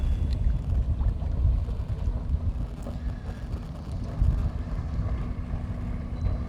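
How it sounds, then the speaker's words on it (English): Powerboats passing near an anchored boat, a low broad engine and hull rumble swelling and fading, mixed with wind buffeting the microphone. "in powerboats going by full throttle"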